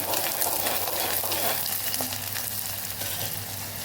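Onions sauté in hot oil with curry leaves and green chillies, a steady close sizzle and crackle filling the whole stretch, with faint stirring and no talk.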